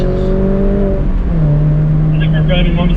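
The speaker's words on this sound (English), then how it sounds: "think we're driving Mom's car a little harder than she did." Stock R53 Mini Cooper driven hard on a race track, a loud sustained engine drone with tones shifting as revs change, heard from close by while people talk over it.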